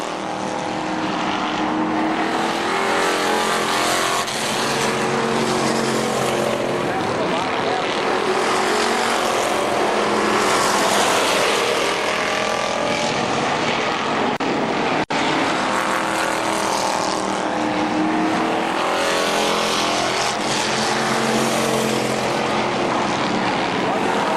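Race cars lap KilKare Speedway in a continuous, loud roar of engines rising and falling as the pack circles, with a public-address announcer talking over the noise throughout.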